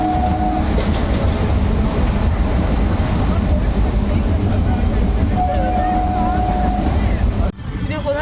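Loud continuous rumble and rattling of a local up train in motion near Barrackpore, with wind buffeting the microphone and a brief squeal, cutting off abruptly near the end.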